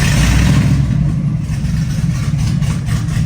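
A Chevy 6.2 V8 with no exhaust fitted runs loud and close on a lift, its deep, rough idle and engine rumble heard alone.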